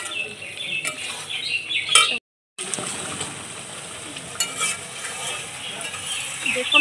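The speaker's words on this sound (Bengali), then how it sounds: "এবারে সব কিছু ভালোভাবে কষিয়ে নেব যতক্ষণ তেল না ছাড়বে মাংসের থেকে" Chicken pieces with spices and salt stir-fried in oil in a pan for a potato chicken curry, with steady scraping and sizzling that drops out briefly before resuming, close and fairly loud.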